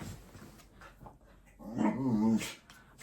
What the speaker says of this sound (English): what is this dog doing behind me?